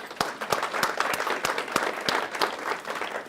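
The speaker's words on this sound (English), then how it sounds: "Let's give the gals who put this on a round of applause." Applause from an audience after a talk about pain, scattered individual claps over a soft bed of many hands, moderately distant and even throughout.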